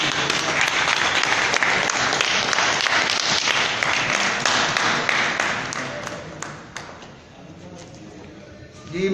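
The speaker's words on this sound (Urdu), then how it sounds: "بہت سی تالیوں میں استقبال کیجیے گا جناب عقیل اختر" An audience at a poetry evening applauds to welcome poet Aqeel Akhtar, with loud, dense clapping that keeps up for several seconds, thins to scattered claps and then picks up again briefly at the end.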